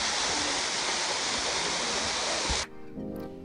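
Loud, continuous rush of Kataldhar waterfall near Lonavala during the monsoon, close by, cutting off abruptly near the end to a quieter background.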